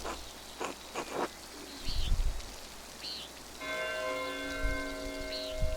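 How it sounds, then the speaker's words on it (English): Church bells ring out in the medieval world of the video game Pentiment, a bright sustained peal of layered tones entering midway and holding steady, with a few soft thuds and taps before it. "The church bells are ringing."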